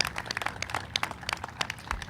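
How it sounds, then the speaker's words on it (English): Scattered, uneven clapping from an audience at an outdoor celebration honouring road and bridge construction workers on the I-244 Arkansas River bridge project, with sharp individual claps spread across the whole moment and no voices. "let's give them a round of applause for their great work on this road and this bridge today"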